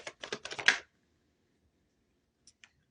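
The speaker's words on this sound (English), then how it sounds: "I just love shuffling cards." A deck of tarot cards is shuffled close up in a quick burst of crisp riffling flutters lasting under a second, followed by silence and two faint ticks.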